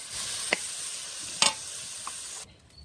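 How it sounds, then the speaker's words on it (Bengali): Vegetables fry in a pan with a steady, close sizzling hiss, a few brief clicks and taps, before the sound cuts off near the end. "ওখানে আমার ভাজা হচ্ছে"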